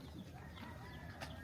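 Backyard chickens on a rural Philippine farm cluck in a short, busy burst of overlapping calls, fairly close and steady, with no talking over them.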